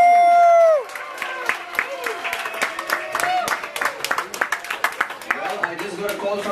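Cruise ship diners in a buffet restaurant applaud and cheer for the dining team after a loud tone, scattered claps building into steady applause with crowd noise close by.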